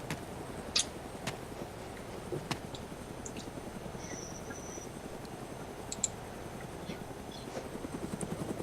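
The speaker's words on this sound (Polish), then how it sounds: "widzę śmigłowca, który jest na lotnisku i on przygotowany jest do startu" In the video game Arma 2: Operation Arrowhead, a helicopter idles on an airfield with a steady low, fluttering rotor drone, with occasional sharp clicks over it; no talking.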